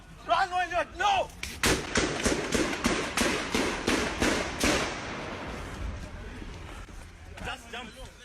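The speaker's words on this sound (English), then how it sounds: "It's an explosion. It's lots of gunshots now." A rapid burst of loud gunshots and blasts, sharp cracks crowding together then thinning out, with shouting voices at the start and end.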